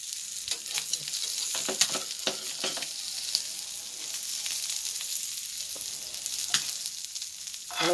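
Sardines fry on a tawa in a quiet, steady sizzle, with soft crackles and pops scattered over the sizzle and no voices.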